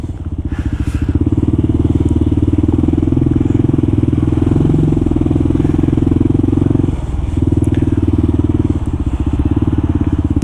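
A Kawasaki KLR 650 single-cylinder motorcycle rolls slowly through New York City traffic, its loud, steady engine thrum close and continuous, easing briefly around seven seconds before picking back up.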